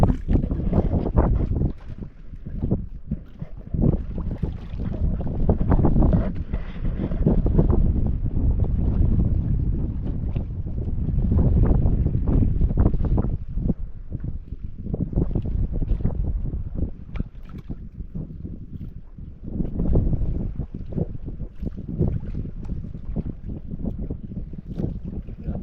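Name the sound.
wind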